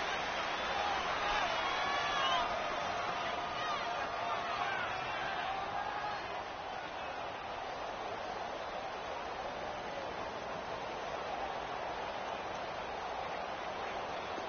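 Stadium crowd at an American football game roars and murmurs as a steady, distant wash of noise, swelling slightly at first before settling into a constant hum with no clear talk on top.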